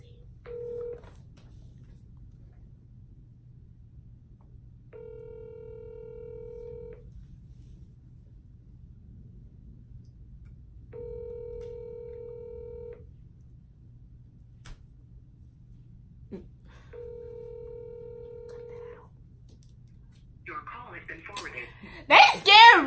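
Phone voice call ringing out: repeated ringback tones in short, evenly spaced bursts over a low steady hum, heard alone with no one answering, before a voice breaks in at the very end.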